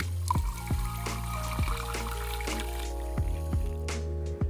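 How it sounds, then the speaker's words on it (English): Sparkling water pours over fresh ice into a Collins cocktail, a soft continuous fizz and trickle punctuated by several sharp clinks and knocks of glass and ice. "Top it up with some sparkling water."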